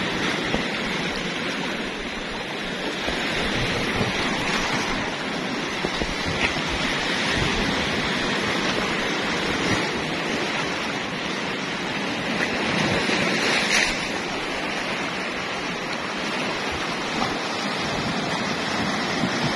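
Powerful surf crashes continuously onto the beach at Tanjung Buloh, Kota Tinggi, Malaysia, a loud, steady roar of breaking waves with wind noise buffeting the microphone throughout.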